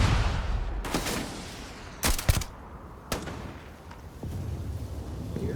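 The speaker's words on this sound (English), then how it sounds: "That's enough out of you with those grenades." Combat in the Starfield video game with grenade launcher fire: a few sharp, separated blasts and bangs over a background rumble, fairly loud, with a brief voice in between.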